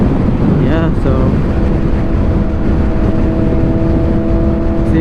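A 2022 BMW S1000R motorcycle cruises in sixth gear at 73 mph, giving a loud, constant wind roar over a steady engine drone throughout.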